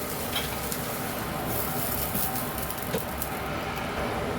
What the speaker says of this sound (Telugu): కొంచెం బెండకాయలు వేగినాయండి. అందులోకి కరివేపాకు వేసుకున్నాము.